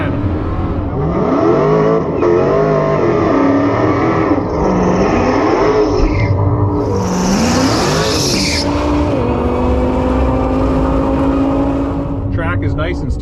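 A Paxton-supercharged C7 Corvette and a Tesla Plaid launch in an eighth-mile drag race. A loud engine winds up through several rising gear pulls with shifts, a high whine joins in, and the sound stays close and continuous.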